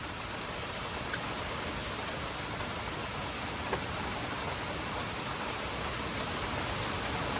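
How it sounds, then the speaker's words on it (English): Steady, dense rain falls nonstop around a 1995 Jeep with 340k miles, a broad even hiss with faint droplet ticks and no voices. "Here comes the rain."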